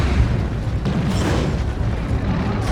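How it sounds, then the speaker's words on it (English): Grenade explosion in the Warhammer 40,000 strategy game Dawn of War II: Retribution, a dense, loud, rumbling boom that fills the short clip with low-end roar and a burst of noise partway through, no talking. "Norg is throwing a grenade after me"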